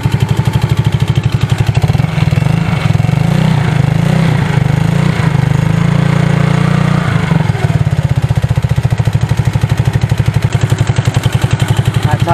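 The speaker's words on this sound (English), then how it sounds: "Tapping noise sounds top end" A Yamaha Fino scooter engine idles with a top-end tapping noise, a steady rhythmic putter with a fast mechanical tick running through it, close and loud for the whole stretch.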